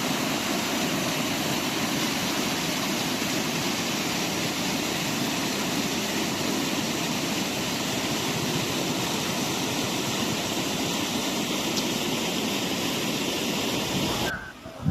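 Heavy, swollen flow of the Dundubhi river stream near Nagar after heavy rains, a loud, steady broadband rush of water that fills the whole stretch without pause before cutting off abruptly at the end.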